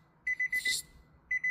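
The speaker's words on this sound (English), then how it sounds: "Key beeps." Short, bright electronic key beeps from an aftermarket Kenwood car stereo head unit in quick succession, a pause, then two more beeps; close and clean against near silence.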